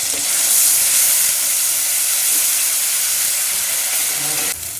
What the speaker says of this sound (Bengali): এই মাছ ভাজা তেলের মধ্যেই আমি পেঁয়াজ বাটা দিয়ে দেবো